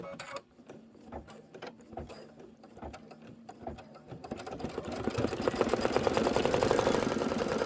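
An embroidery machine stitching a tulip tack-down runs close by with rapid mechanical clicking and whirring, sparse at first and then building into a dense, steady, louder rattle.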